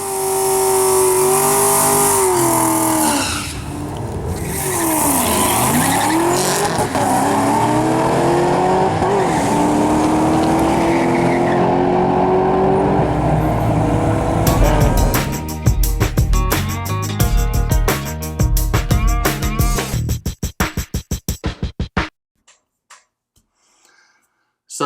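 A Ford Mustang GT500 makes a drag strip pass: loud, continuous engine roar that climbs in pitch through the gears, then a rapid burst of crackling and popping pulses before the sound cuts out.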